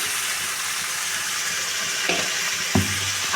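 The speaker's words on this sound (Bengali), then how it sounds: "ধনে জিরের গুঁড়ো দিয়ে দিলাম আর হলুদটাও দিয়ে দিলাম দিয়ে আমি একসঙ্গে কষাবো" Coriander, cumin and turmeric powder sizzle in hot oil in a pan for mutton curry, a steady close frying hiss with a couple of sharp stirring knocks near the end and no talk.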